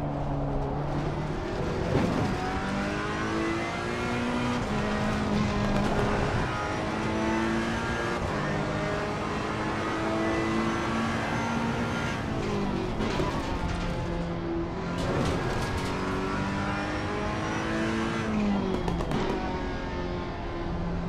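A Ferrari GT race car engine in the racing game Assetto Corsa Competizione wails loudly and continuously, its pitch rising through the gears and falling under braking into corners, with no talk.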